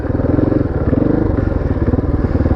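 Motorcycle engine running close by during a ride in the Blair area, a steady loud throbbing rumble with rhythmic pulses throughout.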